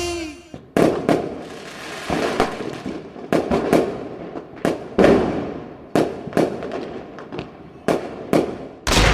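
Firecrackers burst during a Diwali song at a school festival carnival: about a dozen sharp, loud bangs in an irregular rhythm, each with a short crackling tail.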